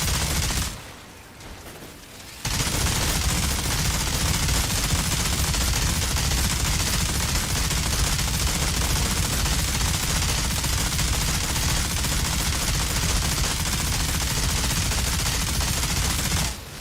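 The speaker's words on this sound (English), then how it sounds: "Okay, let's go for the minigun this time." A minigun firing in the Outriders video game: one long, loud, unbroken roar of rapid gunfire after a short quieter lead-in, held at full level for about fourteen seconds.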